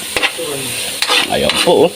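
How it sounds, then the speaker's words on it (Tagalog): A metal ladle knocked against a cooking pot while sinigang sa miso cooks, two or three sharp, close taps over a constant sizzling bed, with brief spoken words between them. "Tinaktak uli yung sandok"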